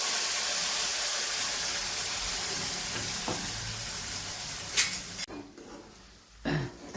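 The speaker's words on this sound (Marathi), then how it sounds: "हे आपण आता परतून घेऊया वाटण" Ground spice paste with red chilli powder and turmeric sizzles in hot oil for a cowpea curry made without onion or garlic. A loud, even hiss carries on, then spoon scrapes and clinks break in near the end.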